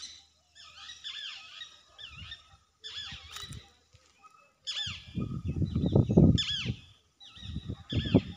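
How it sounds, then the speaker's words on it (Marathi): Several birds chirp and whistle in repeated short bursts at a farm in the evening near a cashew tree, with bouts of lower rustling noise between calls. "पक्ष्यांचा आवाज येतोय किलबिल।"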